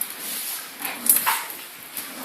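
Dogs whimper and give a few short yips at close range, with the sounds coming in small bursts over a steady background hiss and no talking.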